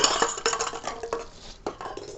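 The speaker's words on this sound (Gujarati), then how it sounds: "આ તપેલી વાહ બરાબર તપેલી આવી છે ને એને મૂકી દઈએ અહીંયા" A metal cooking pot for tea on a small camping gas stove clanks and rattles as it is handled and set down, a quick series of sharp close metallic knocks and scrapes with no talking.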